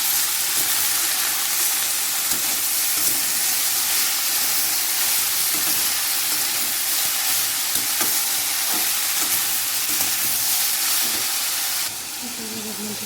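Spinach frying in a pan with no spices, giving a steady, dense sizzle and hiss with faint stirring scrapes, loud and continuous, easing slightly at the very end.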